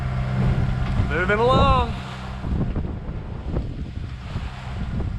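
A sailboat motor sailing in open water between the Virgin Islands and St Maarten, in a light headwind, with steady wind rush, waves and a low engine drone. A man makes a brief spoken remark over it.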